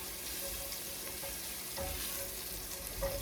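Soft, steady sizzling and gentle bubbling of chopped onions in a frying pan, with a faint clink of a utensil near the end.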